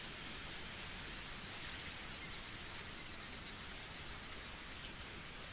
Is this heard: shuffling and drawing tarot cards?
no